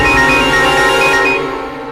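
Mobile phone ringing with an incoming call: a loud, steady electronic ringtone with repeating high beeps, alone and without talk, fading slightly toward the end.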